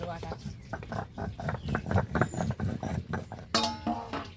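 Garam masala being ground on a grinding stone for snakehead (shol) fish: close, rhythmic rasping strokes repeat rapidly back and forth, with a person talking over part of it.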